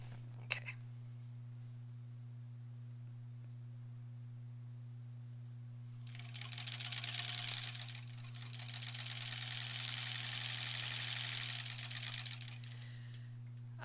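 A sewing machine stitches quilt sashing for a granny squares quilt, running as a fast, even whirring burst for about two seconds. A longer run follows after a short pause, over a steady low electrical hum, with no voices.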